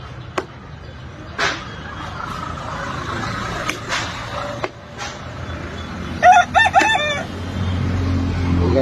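Chickens at a poultry stall, with scattered clucks and sharp knocks followed by a rooster crowing clearly near the end, against a low background hum.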